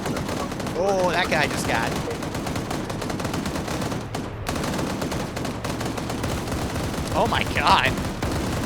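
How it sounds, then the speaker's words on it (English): A GMG grenade machine gun firing in a military video game, steady rumbling bursts of automatic fire throughout, with excited voices talking over it. "And there's the GMG firing."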